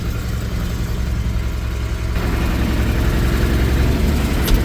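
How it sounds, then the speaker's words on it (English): A John Deere 2950 tractor engine runs steadily on a test drive after a new clutch was fitted, with a loud, continuous low rumble that grows slightly louder partway through and no talking. "Alright, I'm back in the 2950. We got it back together, taking it for a test drive."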